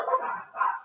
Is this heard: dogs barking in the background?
yes